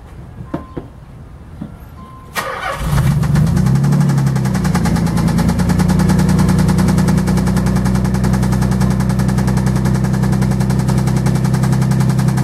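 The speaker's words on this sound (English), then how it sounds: "the ignition's perfectly fine, starts off right away, but as soon as the engine starts, it makes this noise." A 1990 Nissan 300ZX Z32 engine cranks and catches after a few quiet clicks, then settles into a loud idle with a rapid, relentless metallic knocking that hammers on without letup.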